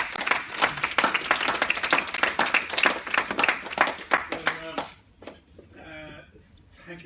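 A conference audience at a commerce session on the state of the EU applauds a speaker's introduction with dense, sustained clapping for about five seconds, which then thins out to a few scattered claps and quieter room sound.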